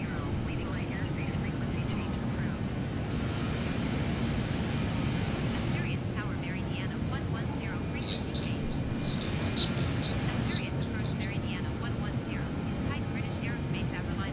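Aircraft engines spooling up in Microsoft Flight Simulator 2020, a steady broadband roar holding constant and loud, with a person talking over it.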